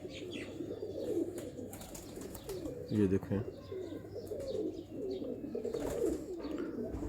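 Crested pigeons coo softly in a loft during a champion-bird showing, with repeated low calls and a brief louder coo near the middle, while someone talks over them throughout.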